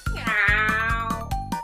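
A cat meows in a read-aloud story, giving one long, drawn-out, close, loud call followed by a few shorter meows with no talk over them.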